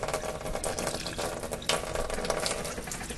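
Water pours from a quarter-cup measure into a sourdough starter, a steady close-up splashing trickle with no voice.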